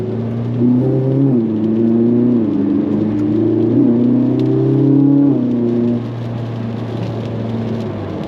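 Ferrari 458 Italia 4.5 L V8 running at low revs, a loud, close, steady low rumble with a slight rise and fall in pitch, alone without talk.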